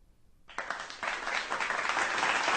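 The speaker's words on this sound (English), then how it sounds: "Let's applaud them for what they've done" An audience breaks into applause for graduating students, starting suddenly and building into steady, dense clapping that swells louder over a couple of seconds.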